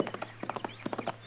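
Horse hooves clip-clop in an old-time Western radio drama, a quick irregular run of hard, hollow knocks drawing near at moderate loudness over a faint steady hum.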